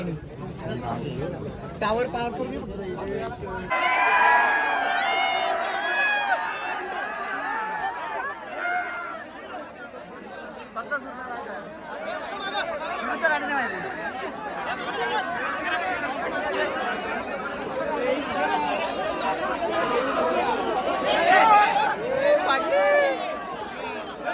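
A crowd gathered to watch the two bulls Sarja and Raja fills the air with dense, continuous chatter and babble. Many voices overlap at close range for the whole stretch, with occasional louder exclamations rising out of the hubbub.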